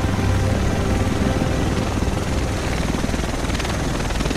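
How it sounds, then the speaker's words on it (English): Helicopter in The Division video game, a loud, close, continuous rotor roar with dense broadband thrum filling the whole stretch without a break. "The rest of us should be in this chopper"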